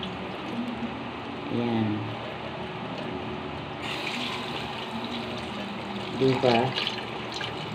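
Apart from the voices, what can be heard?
water running while washing something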